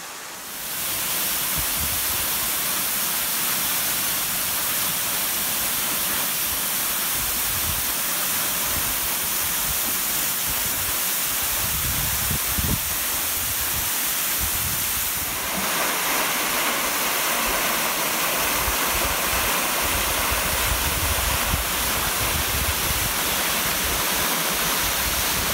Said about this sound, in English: it's a huge waterfall and one big icicle.